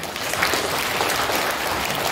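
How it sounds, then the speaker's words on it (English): School audience clapping at St Mary's School Amaria for the principal Rev Fr Sanjeev Kumar's birthday, a loud, dense, continuous wash of applause from many hands, steady throughout. "Let us clap."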